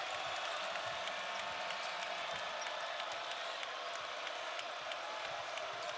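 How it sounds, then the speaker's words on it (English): A basketball arena crowd on its feet during a tied NCAA men's game between Notre Dame and Ohio State, a dense, steady roar of cheering with scattered whoops filling the whole stretch at an even level. "Crowd on their feet."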